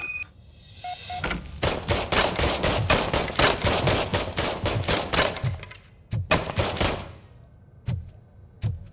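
An old service pistol in Robocop Rogue City fires a long rapid string of loud sharp shots, then a few spaced single shots trailing off.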